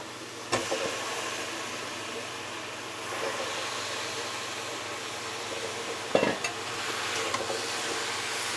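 Washed chicken pieces dropped into a pan of sizzling fried spice paste cooked down in a little oil, a steady hiss and crackle broken by two sharp thuds as the meat goes in, close up.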